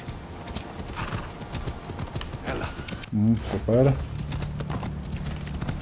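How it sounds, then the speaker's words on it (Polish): A horse in the Assassin's Creed Odyssey video game clip-clops steadily and lets out two clear, loud neighs midway, while someone talks over it. "Może konika wezwiemy."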